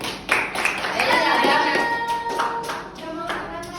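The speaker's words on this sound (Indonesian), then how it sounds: "Tepuk tangan dulu buat Yuda." A classroom of students claps for a classmate, giving a quick burst of hand claps mixed with children's voices and chatter that continues as the clapping thins out.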